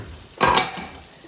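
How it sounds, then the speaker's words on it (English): Eggs and Parmesan cheese being whisked together in a bowl, a brief scraping, clattering burst of the whisk against the dish, close and fairly loud. "And whisk it all together."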